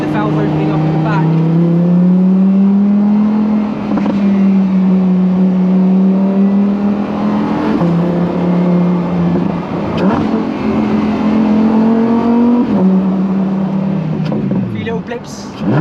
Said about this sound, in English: You hear the valve opening up at the back.